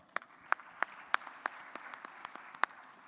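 Sparse, scattered clapping from a small audience at a youth forum, a handful of distinct claps spaced through a few seconds, fairly quiet and thin.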